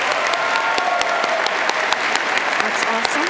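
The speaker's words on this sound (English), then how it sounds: "please join me in giving applause to them" Loud, close applause at a community college commencement ceremony for scholarship recipients, many hands clapping steadily with a few sharp individual claps standing out and faint voices beneath.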